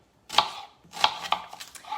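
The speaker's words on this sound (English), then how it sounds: "It's been a while since I've chopped onions, peeps." A knife chopping onions on a board, a few crisp, close cuts at uneven intervals, standing alone without talk.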